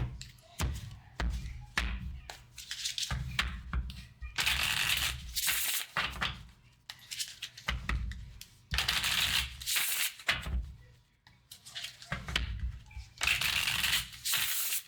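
A deck of tarot cards is shuffled close up in repeated bursts of riffling and soft slaps, with short pauses and light taps between rounds.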